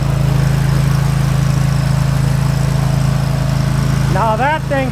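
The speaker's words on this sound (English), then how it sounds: "bad boy lawnmower." A lawn mower engine, just started after sitting all winter, runs loudly and steadily up close, a low rumbling drone, with a brief voice-like sound near the end.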